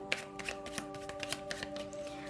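Tarot cards are shuffled in a quick, steady stream of riffling slaps and flutters that continue throughout, close and clear, with a faint steady hum underneath and no talking.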